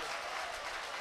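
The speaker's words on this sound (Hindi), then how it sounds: "एक बार जोरदार तालियां आप लोग बजा दीजिए" Loud, dense clapping from the audience at a Hindi-Urdu kavi sammelan poetry gathering, a continuous wash of many hands with no pauses and no voices over it.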